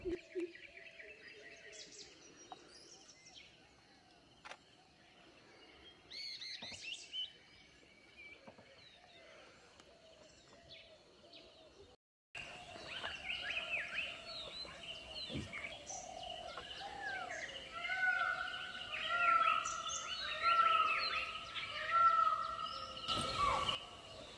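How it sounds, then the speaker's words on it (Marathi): Faint, distant peacock calls echo across a quiet outdoor space in Tipeshwar Wildlife Sanctuary, with a brief sharp deer call cutting in; ambient noise rises partway through. "दूरवरून तुम्हाला मोराचे 3-4 आवाज ऐकायला येतील"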